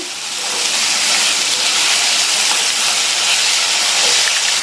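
Diced carrot cubes stir-fry in hot oil for a Tamil potato side dish, giving a steady, close, bright sizzling hiss that holds evenly throughout without any talking.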